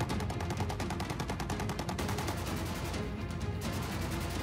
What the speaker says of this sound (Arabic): سنطلق الرصاص التحذيري